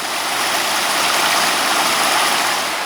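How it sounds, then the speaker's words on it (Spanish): The Cicera river in Cantabria flows past where flour mills once stood, a loud, continuous rushing of water filling the whole clip without pause or speech. "Continuamos la marcha para cruzar el río Cicera"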